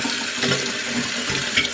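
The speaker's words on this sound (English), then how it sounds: "So get that sink running with cold water." A kitchen sink tap runs with cold water in a brief, fairly loud, steady gush, alone without any voices.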